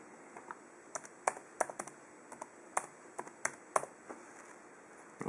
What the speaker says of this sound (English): And you're going to start typing fingerprint.